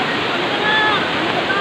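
A strong river current rushes under a bridge, a loud, dense, continuous roar of water close by with no pauses.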